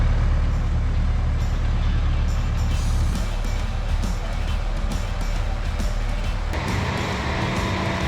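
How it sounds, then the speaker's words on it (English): A huge tow truck for hauling 18-wheelers runs loudly nearby, its heavy engine rumbling steadily with hissing air-brake bursts and clanks, and a shift in the engine note near the end. "they also have a huge truck that they use to tow 18-wheelers"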